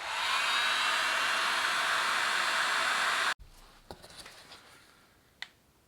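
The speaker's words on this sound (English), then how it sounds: "So I'm just going to try it with the hot air gun." A hot air gun blows on the rear axle of a BMW 1150GS motorcycle with a loud, steady whoosh for about three seconds. It cuts off abruptly, followed by a few faint clicks and one sharp tap.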